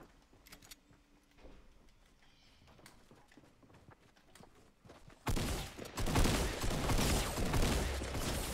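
Gunfire in Fortnite: a quiet stretch of faint footsteps and small clicks, then a loud, dense barrage of shots that starts abruptly and carries on to the end.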